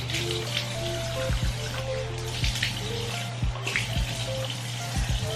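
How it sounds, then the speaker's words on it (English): Hot water running from a bathroom tap while someone wets their face, a steady close splashing stream with intermittent hand splashes and drips. "Now that the water is hot, I'm going to wet my face first with water before I do anything."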